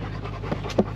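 Dogs pant close by after a short, hard-pulling walk at Nelson, Victoria, giving quick, breathy rasping in a steady rhythm with a small scratch or bump near the end.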